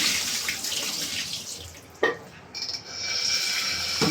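Water from washing cow trotters being poured out, a steady rushing wash with a brief splash partway through, continuing near and fairly loud with no talk.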